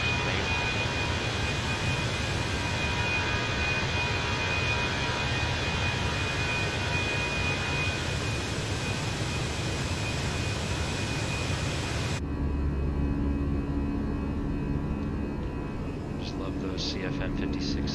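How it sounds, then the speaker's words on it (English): CFM56 jet engines of a Fenix Airbus A320 in Microsoft Flight Simulator, a loud continuous roar with a high whine that drops to a quieter, deeper hum near the end. "CFM 56 sounds"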